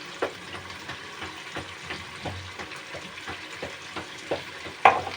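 Garlic, ginger and turmeric paste tipped onto fish frying in a pan and stirred in, giving a low sizzle with scattered scraping stir strokes and a sharper clatter near the end, no talking.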